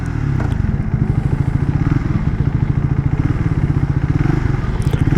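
A KTM Duke or Triumph Speed motorcycle engine runs close and loud, its fast, even exhaust pulse steady throughout with no voices over it.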